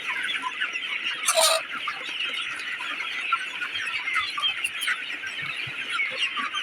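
Sonali chickens on a poultry farm cluck and murmur continuously while pecking at feed lines, a busy nearby flock chorus with one louder squawk early on.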